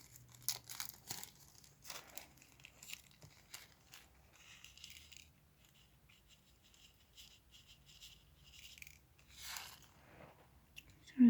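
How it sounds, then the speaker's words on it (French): A plastic snack packet is torn and crinkled open by hand, with a burst of crackling rustles early on, a quieter stretch, then more crinkling and a sharp final rip, close up and alone. "j'arrive pas à ouvrir le sachet"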